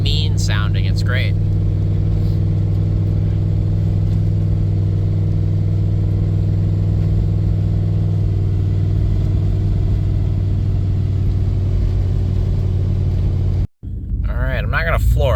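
A 2002 Dodge Durango SXT with 294,000 miles idles and revs steadily up close, its deep engine rumble constant and loud, cutting out briefly near the end before resuming.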